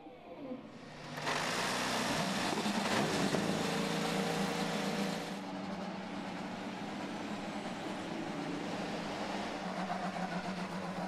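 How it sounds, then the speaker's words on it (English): IndyCar race car engines start at Barber Motorsports Park: a broad roar of many engines swells suddenly and holds loud, then settles into a steady rumbling idle, heard from a distance with crowd ambience. "Drivers, start your engines!"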